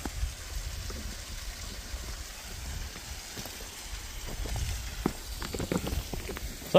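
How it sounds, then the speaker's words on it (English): A waterfall at Bandits Cove at midnight pours steadily, a constant rushing hiss of running water that fills the whole stretch, with a few faint clicks and knocks near the end. "Now the waterfall's running."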